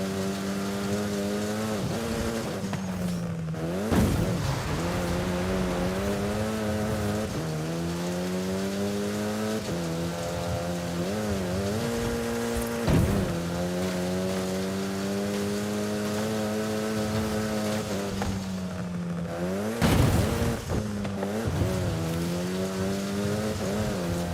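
A 2009 Corvette ZR1 engine revs continuously, its pitch rising and falling through gear changes, with brief louder bursts, loud and close with no talking.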